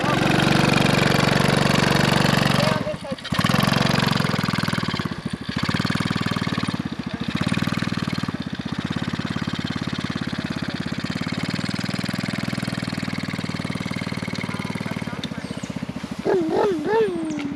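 A small go-kart engine runs steadily and loudly throughout, with a few brief dips in its drone, and excited children's voices break in toward the end.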